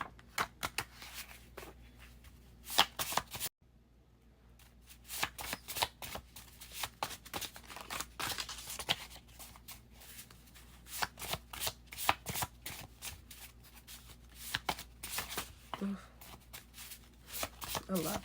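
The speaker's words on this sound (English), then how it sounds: "it's so hard to shuffle this deck" A deck of tarot cards is shuffled over and over in quick, crisp riffling bursts up close, with a brief pause near the start and soft talking in between.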